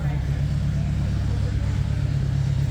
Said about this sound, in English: Yeah, it's because they're starting engines up.